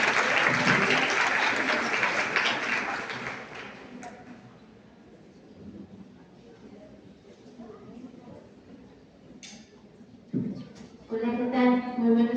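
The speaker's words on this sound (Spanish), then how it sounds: "Por favor, recibámosla con un fuerte aplauso" An audience at a health-system accessibility congress applauds a speaker being welcomed, loud steady clapping at first that fades to scattered claps, with talking and a few louder handling sounds near the end.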